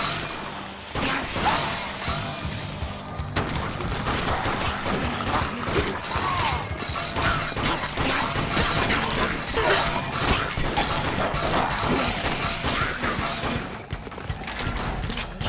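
Grenade blasts and shattering crashes in the zombie shooter Dead Nation: Apocalypse Edition, a dense, loud barrage of bursts and debris smashes running almost continuously with no talk.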